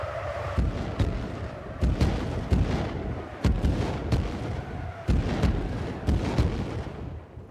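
Artillery fires in salvos in the video game Rust, a series of heavy booms at irregular intervals, each with a sharp crack and rumbling tail, loud and close with no talking.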